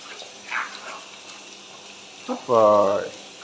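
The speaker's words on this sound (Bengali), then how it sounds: "আবার আবার পা ধুয়ে দাও।" A child's feet being washed with water: a short splash, then a brief burst of running, pouring water, close by, with a voice talking around it.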